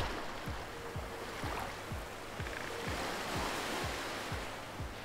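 Ocean surf washes steadily in the survival game Under a New Sun, a constant broad rush of sea swell with a rhythmic series of soft thumps running beneath it, fairly quiet and with no voices.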